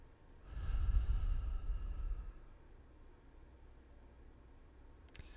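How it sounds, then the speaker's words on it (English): A single slow, deep breath drawn in close to the microphone, a broad airy rush lasting about two seconds before fading into quiet room tone, with a faint click near the end. "I can go ahead and take some deep breaths."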